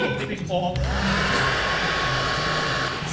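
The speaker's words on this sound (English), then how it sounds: "I've got the hairdryer." A hairdryer blows steadily and loudly close by, a constant whooshing roar with a motor whine that stays level throughout.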